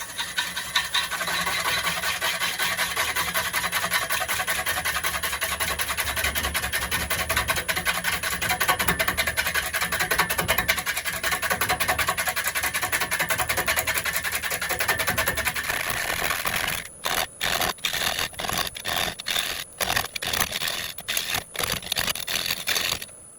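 A woodturning gouge cuts across a ship's plank, flattening a 30 inch wall hanging on the lathe. The rasping scrape is loud and continuous, then turns to short, choppy bursts near the end, with no talk.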